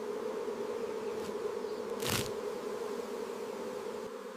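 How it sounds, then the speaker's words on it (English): A wild colony of Italian bees buzzes steadily and close, a continuous drone with a brief louder swell as a bee passes near, no voices. "a wild colony of Italian bees"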